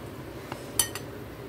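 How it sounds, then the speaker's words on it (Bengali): A metal lid comes off a cooking pot with a sharp clink and a brief rattle, a couple of short light knocks around it against a quiet kitchen background. "আমি এখন ঢাকনা তুলে একটু দেখে নিই।"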